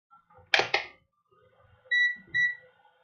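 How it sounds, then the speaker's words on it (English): Two quick clicks or taps are followed by two short electronic beeps from a continuity tester signaling a short, clear and close in an otherwise quiet space. "you'll hear the beep if there's a short, like this."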